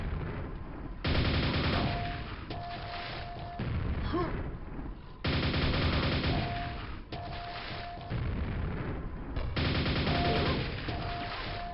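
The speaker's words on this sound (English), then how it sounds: "He'll just keep shooting me." Repeated bursts of enemy gunfire in the video game Quake, loud sustained volleys with short pauses between, firing at the player amid game sounds.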